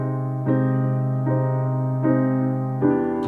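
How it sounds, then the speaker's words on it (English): A piano strikes four evenly spaced chords, each ringing out before the next, with a bright, slightly sped-up tone from being recorded at double speed; no talking. "record the piano parts at double speed. So it'll sound like this"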